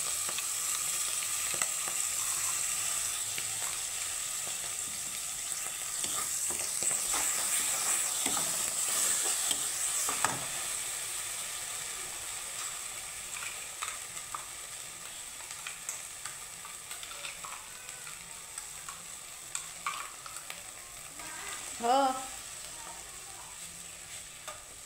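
Bitter gourd (kakrol) with onion frying in a pan as mustard and poppy-seed chili paste goes in, a steady close sizzle with occasional stirring scrapes and clinks throughout, no talking.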